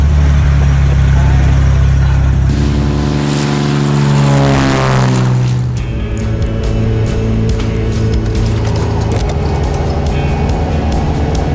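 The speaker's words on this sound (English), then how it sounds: "We're in an airplane, probably the most spectacular shot." A light aircraft in flight over South Africa during a film shoot, its engine and propeller drone steady and loud throughout with a deep hum, a rising whine near the middle, then a rougher close roar.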